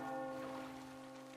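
A bell rings once inside the video game Metro Exodus, a sustained metallic tone with long ringing overtones, faint and steady with no voices over it.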